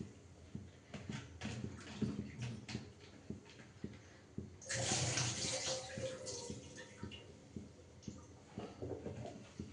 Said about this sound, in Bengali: দেখো আলুটা একটু সুন্দর করে ধুয়ে নিয়েছি।